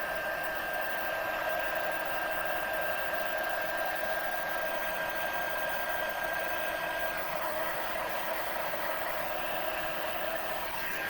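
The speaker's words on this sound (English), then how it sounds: "heat gun again." A heat gun blows steadily over embossing powder on a stamped card, giving a constant, fairly quiet whooshing roar with a faint whine, with no voices.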